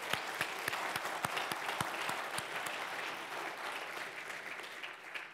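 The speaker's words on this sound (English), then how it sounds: "so give them a round of applause" A church congregation claps to congratulate a newly engaged couple, the sound moderately distant, with a few sharp individual claps standing out early before it settles into a softer steady patter.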